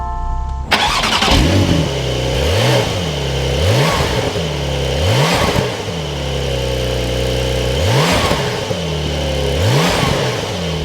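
A 2021 Porsche 911 Carrera fires up with a sharp starter catch, then its flat-six blips through repeated loud, close revs that rise and fall over a steady idle, with no talking.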